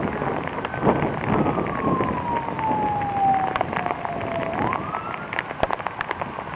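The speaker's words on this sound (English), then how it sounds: "I wonder where that siren's heading, because it's getting louder." An emergency vehicle siren wails in the distance during a thunderstorm in Redmond, Oregon, one long slow falling and rising tone standing out over steady rain-like hiss and rumble, with no talking.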